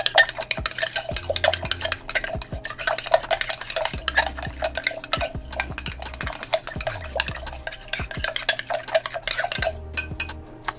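A utensil stirs briskly against the inside of a container, mixing distilled water for a lavender facial mist: rapid, steady clinking and scraping strokes, close and fairly loud, with no talking.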